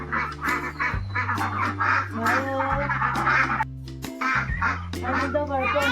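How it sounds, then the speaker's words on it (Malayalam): Ducks in a flock quack steadily and loudly over a constant low hum, calls overlapping and repeating throughout; one duck in the group appears to have an injured leg. "താറാവും കൂട്ടം"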